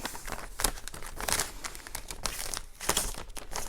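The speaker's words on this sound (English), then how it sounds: "So I'm going to remove my paper backing" Paper backing peeled off Oracal 651 vinyl transfer tape for a fabric stencil, a close series of crinkling, tearing rips and crackles in uneven bursts, fairly loud with no talking.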